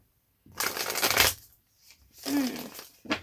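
Tarot cards are shuffled close up in two quick riffling bursts, a papery flutter followed by a short tap, in an otherwise quiet room.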